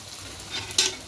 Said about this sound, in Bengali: আর একটুখানি খুব ভালো করে কষিয়ে নেব